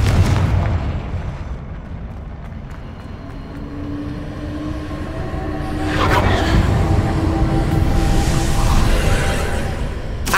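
A Confringo blasting spell explodes in Hogwarts Legacy: a broad, rumbling boom swells midway through amid steady game ambience, with no talking.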